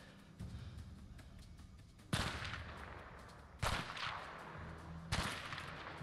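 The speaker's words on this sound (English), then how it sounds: "What is he shooting at, though?" Three heavy, booming sniper rifle shots in the game A Way Out, evenly spaced about one and a half seconds apart, each loud and close with a lingering rumble over quiet background ambience.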